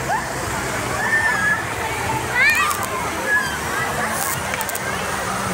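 River water sloshes and splashes as a crowd bathes in the Taban river at Iraw during an Easter outing, a constant close wash of water under lively chatter, shouts and children's voices.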